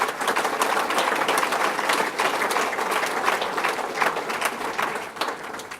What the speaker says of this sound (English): So, round of applause to all the Latimers.